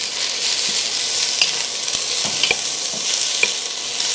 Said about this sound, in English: Okay, so we're just gonna saute the onions.